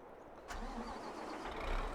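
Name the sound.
engine starting on New Holland forage harvester in Farming Simulator 22 video game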